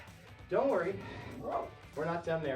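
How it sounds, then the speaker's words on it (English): The speaker's dog barks and yips in a few sharp bursts in the background while someone talks over it. "Can you hear that dog in the background? That's my dog."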